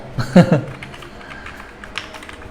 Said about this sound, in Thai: เพราะว่าผมใช้การต่อคีย์บอร์ดนอกนะครับ